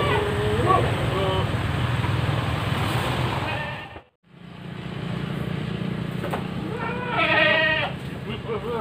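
Goats bleat from a livestock pen, several repeated calls near and far, with a pause midway and a continuous background hum.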